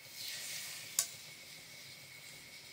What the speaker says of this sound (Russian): Сковородка у нас в руках и растительное масло прямо на чесночок.